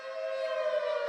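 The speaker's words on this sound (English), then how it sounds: "Why are the sirens going off?" An emergency siren wails in a steady, sustained tone, fairly faint and alone with no voices, during a broadcast emergency alert.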